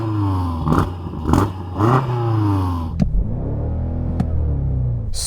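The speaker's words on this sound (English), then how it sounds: "let's have a listen to that BMW" A BMW M5 engine revs hard several times in short, sharp blips, then holds a longer rising rev up to its soft limiter near 5,000 rpm. It is loud and close, with no voices.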